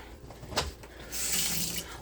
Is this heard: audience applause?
no